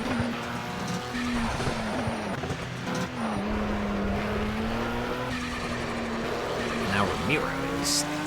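Race cars in the Project CARS video game, one overtaking another: a steady engine drone with a sustained pitch line runs throughout, joined by brief tire squeals, while talk goes on over it.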